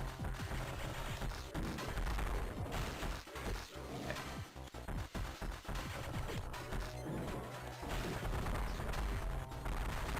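Samus firing at a boss in Metroid Fusion during a dense, constant stretch of game combat: rapid shots, crashes and explosions blend into a loud, continuous wall of noise that keeps going for about ten seconds.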